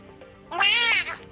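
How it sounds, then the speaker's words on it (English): A cat gives one short, clear meow lasting about half a second, close and loud against a quiet background. "Meow."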